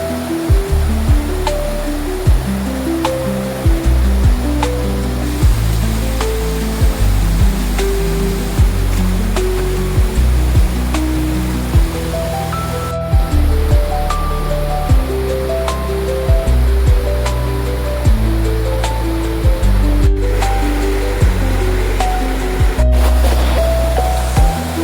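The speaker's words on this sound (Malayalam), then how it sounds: "ചെളിക്കുഴി വെള്ളച്ചാട്ടമാണ്" Chelikuzhy waterfall on the Achankovil river near Kalleli village in Konni, Kerala, set among reserve forest and rubber plantations; a constant loud roar of falling water runs beneath music.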